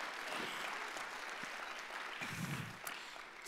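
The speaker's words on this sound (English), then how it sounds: "Now let's just give them all a big round of applause." Sustained audience applause for a local Socorro County radio station fills the whole stretch, dense and steady clapping with a brief lull in the last second.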